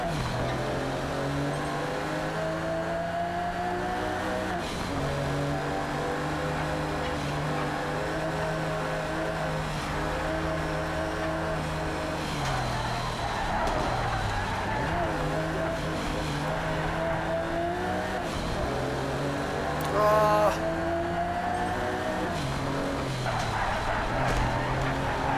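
Mercedes car engine in the racing video game Project CARS, a steady droning tone rising and falling through gear changes, with revving climbs and drops on downshifts, continuous and close throughout.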